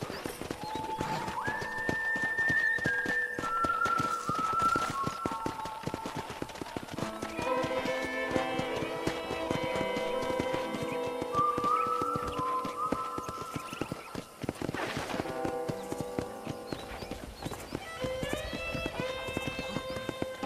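Horse hooves clip-clop in a steady walking rhythm throughout in Red Dead Redemption, under continuous music.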